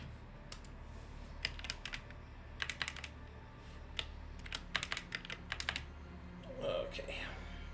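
Keystrokes on a computer keyboard come in short irregular bursts and single clicks, fairly close and moderately loud over a low background hum, with a faint soft murmur near the end.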